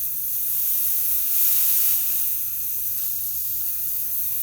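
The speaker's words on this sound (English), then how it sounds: "You can hear it sizzling, or fizzing out." A continuous close hiss of gas venting from a refillable 1 lb propane bottle, steady with a brief swell in the middle, no voices.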